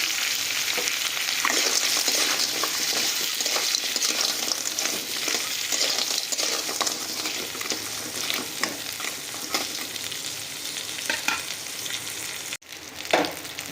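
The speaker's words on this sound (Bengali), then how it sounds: "দিয়ে সবগুলোকে একটু খুব ভালোভাবে ভাজা করে নেব প্রথমেই।" Broken crab claws frying in hot oil for a spicy Bengali crab curry, a loud, continuous crackling sizzle with stirring scrapes throughout, heard up close with no voices.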